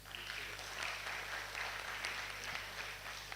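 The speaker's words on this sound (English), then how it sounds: "So a huge round of applause for your ancestors," An audience at a youth consultation event at a university claps steadily, a continuous wash of faint, somewhat distant applause throughout with no talk.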